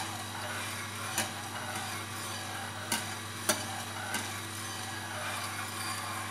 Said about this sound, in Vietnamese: Cho nên là các bạn sẽ khuấy đều lên cho mình như thế này.